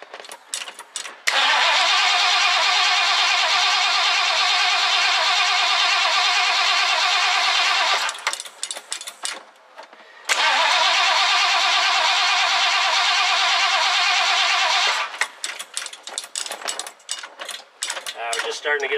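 The engine of a 1969 Ford Club Wagon cranks and catches, running loud and steady for several seconds, then drops out and restarts for another long run, with rattly mechanical noise between the runs.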